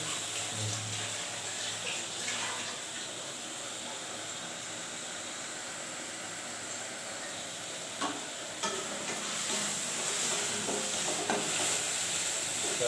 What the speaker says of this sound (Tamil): வதங்குது நல்லா வதங்கட்டும் மாமா இன்னும் நல்லா வதங்கணும்